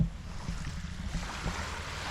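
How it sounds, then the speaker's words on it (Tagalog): Open-sea waves rolling and sloshing around a small boat, with continuous low rumbling water noise and wind buffeting the microphone close up. "Dito tayo sa gitna ng dagat."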